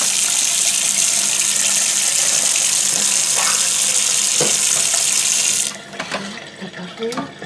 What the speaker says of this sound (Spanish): Voy a tirar esto del café